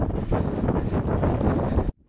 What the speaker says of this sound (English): Oh god, it's so windy and cold.